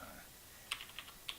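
A few light, quiet keystrokes tapped on a computer keyboard, spaced irregularly over a soft background hiss.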